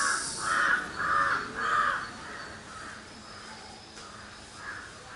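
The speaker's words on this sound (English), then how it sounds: "Listen to the sound of the birds" Crows caw outdoors during a meditation: three or four loud, harsh calls in quick succession, followed by fainter, more distant caws over a quiet background.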